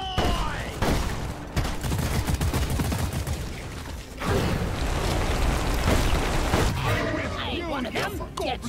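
Rapid bursts of gunfire and weapon noise from the video game Deep Rock Galactic roar almost without a break, loud and dense, with a couple of brief gaps, while players shout over the din.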